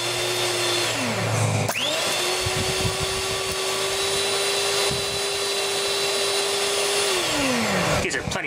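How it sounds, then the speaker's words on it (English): A cake mixer's electric motor kicked into motion by a pulse from a capacitor bank through its winding, whining up quickly to a steady loud hum, running several seconds, then spinning down as the power drops. "let's just put a big pulse through the motor winding. Everything's right, power on."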